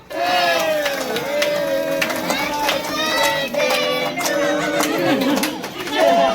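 Many voices talk over each other at a child's birthday party in a home, with children's voices among them and a steady, fairly loud hubbub filling the room.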